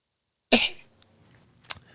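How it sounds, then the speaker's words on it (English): A single sharp, close cough from a man after a brief silence, trailing off, followed by a smaller clipped sound, otherwise quiet. "So, hold on, I got a cough."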